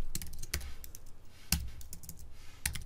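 Quick bursts of typing on a computer keyboard, sharp individual key clicks in short uneven clusters with brief pauses between, close and fairly quiet.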